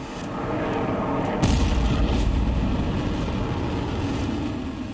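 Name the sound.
Iranian missiles fired at US military bases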